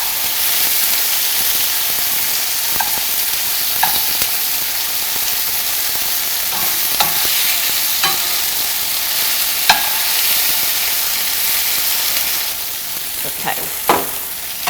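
Tofu frying and crisping in a pan, a loud steady sizzle and hiss running throughout with scattered small pops and occasional utensil scrapes, no talking.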